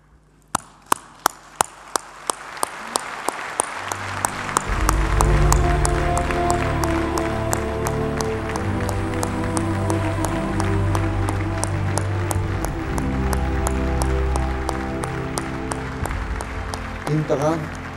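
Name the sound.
standing ovation applause in honour of fallen heroes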